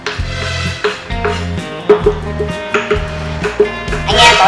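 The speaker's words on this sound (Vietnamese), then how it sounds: "Anh em có nghe thấy tiếng băm chặt không?" A knife chops and minces garlic and shallots on a board, making quick, regular thuds in a steady rhythm close by, with light kitchen clatter around them.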